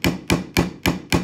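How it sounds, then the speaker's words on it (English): Nails hammered into a wooden geoboard, five sharp, evenly spaced hammer strikes in quick succession, close and loud with no talking. "now I can hammer them down"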